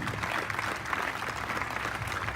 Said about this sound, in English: Let's have a big round of applause for a guy who's kept this running